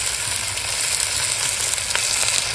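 Chopped Malabar spinach frying with turmeric, chili powder and salt in a hot pan, a steady close sizzle with a low rumbling base and a few faint clinks, no talk.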